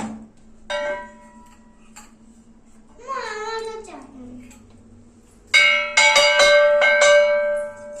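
A hand bell rung during Hindu puja worship gives a few bright metallic strikes, the strongest and most rapid near the end, with a steady low hum and a brief wavering voice in between.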